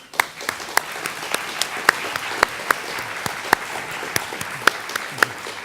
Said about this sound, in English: So can we give them applause?